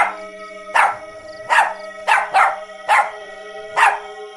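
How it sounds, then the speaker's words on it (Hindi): A dog barks loudly and insistently, six or seven sharp, ringing barks spaced about half a second to a second apart, heard alone over a faint steady hum. "टफी उसकी मौजूदगी का एहसास कर लेता है और जोर जोर से भौंकने लगता है"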